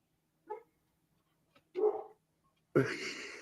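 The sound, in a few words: dog barking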